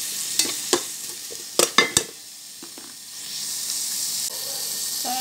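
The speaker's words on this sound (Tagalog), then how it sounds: "Ginisa lang natin siya sa garlic, onion, and chili." Garlic, onion and chili sauté in a pan with a continuous close sizzle, punctuated by several sharp scraping strokes of a spatula stirring, then the frying settles into a steady hiss.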